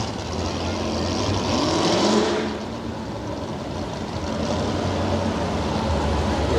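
A truck races at a Tough Trucks monster-truck event in Brookville, PA, its engine roaring loud and continuous. The roar swells early, then settles into a steady drone.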